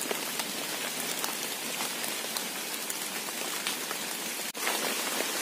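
Outdoor rain falling steadily, a dense, continuous hiss of drops striking surfaces, loud and close, with a brief dip in level just after the midpoint.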